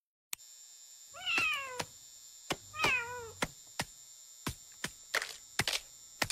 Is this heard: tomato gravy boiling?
no